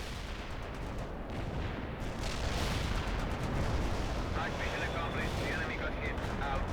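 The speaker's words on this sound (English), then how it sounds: "launch a heavy barrage over here" A heavy artillery barrage in the strategy game World in Conflict: a dense, continuous roar of overlapping blasts and gunfire that stays loud throughout and swells slightly partway through.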